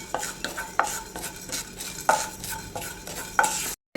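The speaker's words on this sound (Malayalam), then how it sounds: "ജീരകവും കൂടെ ചേർത്ത് നമുക്ക് നല്ലപോലെ ഇളക്കാം." Spoon stirring and scraping through cumin, black pepper and fenugreek roasting in a pan for sambar powder, in rhythmic strokes with a faint sizzle beneath, close and clear, ending abruptly.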